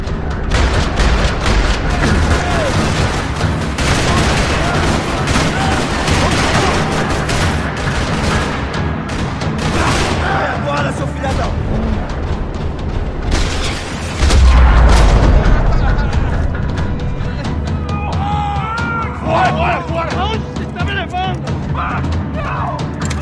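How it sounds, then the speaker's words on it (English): Rattling gunfire in a parking lot in the video game Max Payne 3, with dense bursts of shots and heavy booms running throughout, a louder impact near the middle, and voices now and then. "Another parking lot rattling gunfire."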